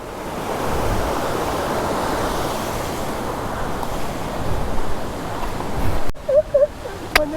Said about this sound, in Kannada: ಇದು ಜಸ್ಟ್ ಎಂಟ್ರೆನ್ಸ್ ನೋಡಿ, ವಜ್ರ ಫಾಲ್ಸ್